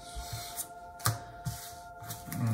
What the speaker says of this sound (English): The runner shuffles the stack.